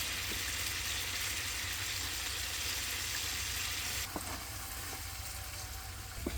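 Steady loud sizzling of meat frying in a pan with soy sauce and ginger-garlic paste, with an occasional faint clink partway through.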